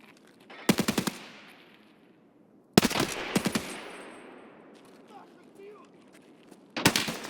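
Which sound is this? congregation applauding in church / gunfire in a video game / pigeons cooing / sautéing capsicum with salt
gunfire in a video game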